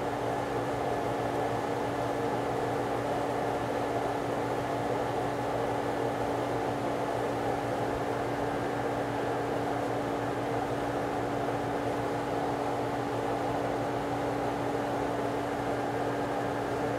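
A 750 brine maker pump runs while salt brine fills a sprayer, giving a steady, even mechanical hum and whir. It holds at constant level throughout with no breaks and no voices.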